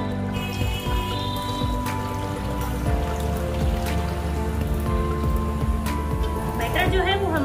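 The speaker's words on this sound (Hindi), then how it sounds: "अब मैं इसमें आधा लीटर पानी ऐड कर दूंगी।" Water is poured into a kadhai of kadhi batter for kadhi pakoda, a continuous splashing trickle running for several seconds over background tones and a voice.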